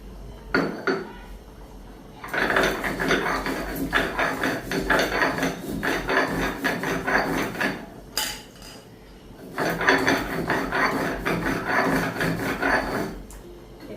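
Spices being ground on a stone slab (pata) with a grinding stone, making repeated rough scraping and knocking strokes in long bursts with short pauses, fairly close.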